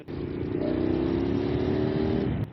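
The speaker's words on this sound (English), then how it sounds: "Oh, I can hear that now. What, your exhaust?" KTM Super Adventure motorcycle exhaust, a steady, mid-pitched engine drone held for a couple of seconds at a constant level, fairly close, with no talk over it.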